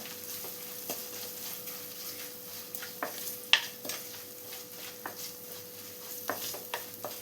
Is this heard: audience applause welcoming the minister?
no